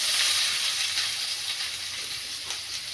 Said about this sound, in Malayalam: ആദ്യം നമുക്ക് സവാള ചൂടാക്കാനായിട്ട് വഴറ്റാനായിട്ട് അടുപ്പിലേക്ക് ഇടാം.